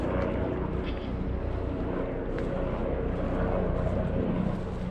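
An airplane passing overhead above a dry nature trail along the Caloosahatchee creeks, a steady broad engine drone that stays even throughout, mixed with some wind buffeting on the microphone.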